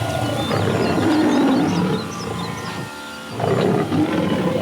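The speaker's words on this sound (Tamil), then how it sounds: "புலி உருமல் கேட்கும் திசையை இலக்காக வைத்து அதன் மீது அம்பு விடுங்கள்" A tiger gives a deep, prolonged roar, rumbling loud and close with a brief dip before a second swell, without any voices.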